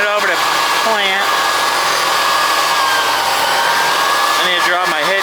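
Fans on a John Deere 350 planter run with a loud, steady high-pitched whine and rushing air that holds constant, with a slight pitch shift at the start and end as they spin.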